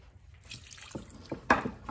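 Water poured from a can into a pan of chicken and rice in a home kitchen, a few soft splashes and trickles building to a brief louder gush near the end, quiet and close.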